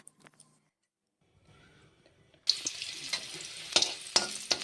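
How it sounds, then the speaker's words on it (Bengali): Garlic cloves hit hot oil in a wok after a quiet start, bursting into a sudden loud sizzle with sharp crackles and pops that carry on to the end. "কড়াতে দিয়ে দিয়েছি রসুন"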